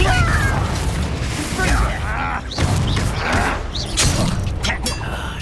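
Spell explosions and bursts from combat in Hogwarts Legacy, several booming blasts and thuds in quick succession amid game effects and voices calling out.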